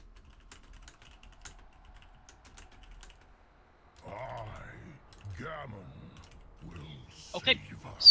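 Sparse faint keystrokes clatter on a computer keyboard during a guild raid in a game, a few light clicks alone at first, then a person starts talking over them.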